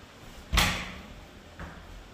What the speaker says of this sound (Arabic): دولاب داخل غرفة النوم.